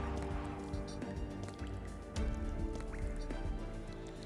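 Vital fluid dripping inside a dark, silent tomb-like interior in the game Punishing: Gray Raven, a series of soft, close liquid drips and splats falling at an irregular pace over a quiet, dim background.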